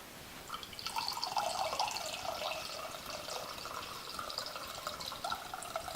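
A clogged tap lets water sputter and trickle out in a steady, hissing stream with faint dripping, close and continuous, with nobody talking.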